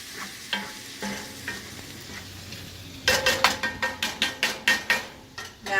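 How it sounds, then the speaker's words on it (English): Hamburger meat frying in a cast iron skillet gives a soft sizzle, then a run of sharp, rhythmic scraping clacks from stirring with a utensil, close and clear with no talk. "you don't have to use a cast iron skillet to fry up your hamburger meat"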